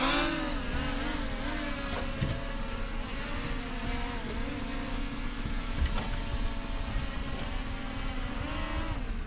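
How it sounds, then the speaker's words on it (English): A camera drone hovers close beside a small fishing boat on a lake while fishing for kokanee, its steady whine blending with engine-like droning that runs loud and continuous throughout. "Ah, drone always fights you."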